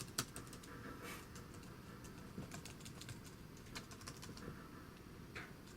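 Faint, scattered clicks of typing on a computer keyboard sound up close in a quiet room, irregular keystrokes coming in short bursts with pauses over a low background hum.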